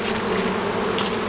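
Honeybees from a late wild swarm buzz at an opened hive during a merge of two swarms, a close, continuous low drone with slight swells and no voices.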